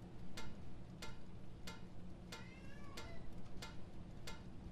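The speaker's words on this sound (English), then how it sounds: "I can hear the cat." A cat meows in the video game Sheltered, a short cry amid a steady series of sharp ticks over a low hum.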